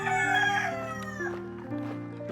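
Rooster crowing once in a village yard, a loud, close, drawn-out call that bends and fades, heard alone.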